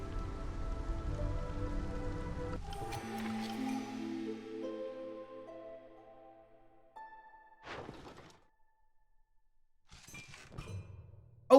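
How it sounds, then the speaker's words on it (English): Light drizzle patters in the strategy video game Against the Storm, a soft, steady wash of rain over layered game tones, fading partway through and then broken by a few short, sharp bursts. "Let's make it to drizzle, shall we?"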